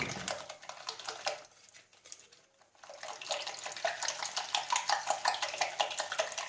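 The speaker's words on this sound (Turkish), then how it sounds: "İyice çırpıyorum." A whisk beats gluten-free crepe batter in a bowl with fast, rhythmic clinking and sloshing. It pauses briefly, then returns with a steady, even beat up close.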